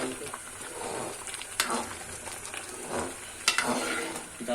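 Hot tadka tempering sizzles and crackles over moong masoor mixed dal, a steady close frying hiss with a few sharper pops and stirring, while a voice talks over it.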